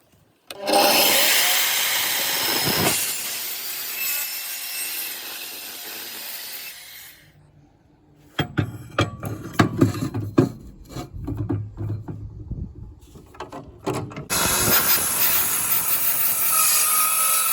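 Power saw cutting 45-degree ends on steel trailer tube, a loud sustained cutting run, a brief pause, then a stretch of choppy, uneven cuts before another steady loud pass.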